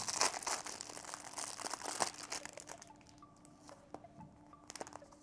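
Paper packing rustles and crinkles continuously while unboxing a purchase, with scattered crisp crackles, busy at first and then thinning out to sparser handling noises near the end.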